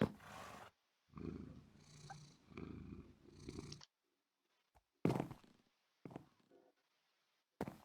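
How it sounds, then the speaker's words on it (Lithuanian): A cat purring in the Minecraft video game: soft rhythmic purr bursts repeating for several seconds, then a pause and a few sharper isolated sounds, faint and close with no talk. "Nu vis tiek geras katukas, man jis labai patinka."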